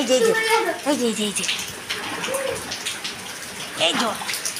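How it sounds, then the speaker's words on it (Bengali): Flood water from Cyclone Remal splashes and sloshes close by in uneven bursts while several people talk and call out over it. "এই যে জল, জোনাই এই যে জল"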